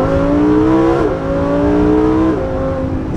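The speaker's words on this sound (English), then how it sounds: "So getting really high up in the revs there." Lamborghini Huracan Performante engine revving hard and high in first gear, a loud, steady rising wail that drops briefly at each gear shift and climbs again, close and continuous with no talk.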